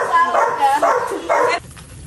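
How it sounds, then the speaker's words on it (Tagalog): A dog barks three times in quick succession, loud and close, during a visit to a family home, with people's voices in the background; the barking stops abruptly and quiet follows. "Ay, may aso po."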